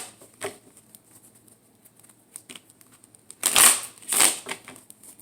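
Divine timing cards being shuffled, with soft scattered riffles and card flicks and then two louder, close bursts of shuffling near the end.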